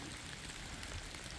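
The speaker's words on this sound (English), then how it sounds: "We're still out in the rain and drizzle." Rain and drizzle fall outdoors on a muddy, puddled trail under gray skies, producing a soft, constant hiss of drops with no talking.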